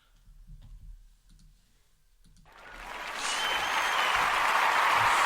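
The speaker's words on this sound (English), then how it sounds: "Hit that with a round of applause real quick." A few faint clicks give way to a swelling round of applause that builds and then holds steady at a moderate level.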